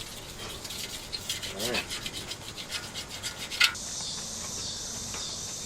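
Rag rubbing to clean the rear window frame of a Ford F-100 pickup, quick rhythmic scrubbing strokes up close, followed by a brief squeak and a steady hiss, with a short spoken word.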